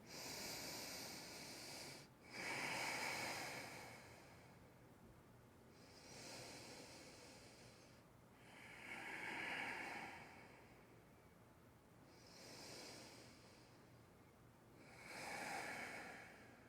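Slow, deep breaths during a seated yoga twist, each long airy inhale or exhale rising and fading every few seconds, soft and close with quiet pauses between.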